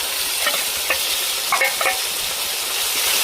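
Ground masala paste sizzling loudly in a hot pan with goat liver for masala rice, a steady close hiss with a few stirring scrapes and clinks, no talking.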